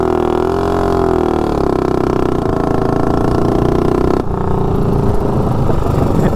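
A 241 small block Rascal GT mini bike accelerating from 0 to 30 with a loud, steady engine whine that climbs in pitch, then breaks into a rougher, lower rumble after about four seconds.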